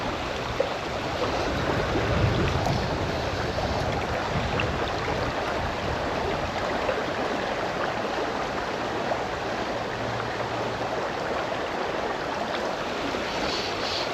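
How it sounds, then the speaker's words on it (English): Wind blowing along a trout and salmon river, a broad steady rush mixed with flowing water that stays constant throughout, with a faint low hum partway through. "Jeez, that's a fair wind that's blowing. Probably could hear it."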